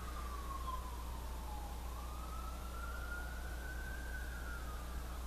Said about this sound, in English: The sound of a siren is deadline free.